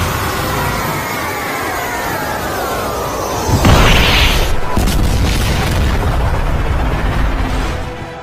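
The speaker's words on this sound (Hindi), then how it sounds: "क्या कमाल का धमाका था।" A loud boom erupts midway through an animated Pokemon battle involving Greninja, bursting over a rising whoosh and leaving a rumbling roar that slowly fades.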